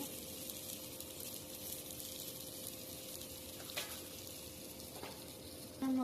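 Onion with garlic fries in oil in a kadai for chepa shutki bhuna, a faint even sizzle with a couple of soft stirring clicks and a brief louder knock at the end.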